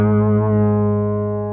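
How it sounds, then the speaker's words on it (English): A bass guitar played through an octave-up effect with distortion, a single sustained buzzing note ringing loud and close, slowly decaying with no other sound. "I have an octave up with distortion sound"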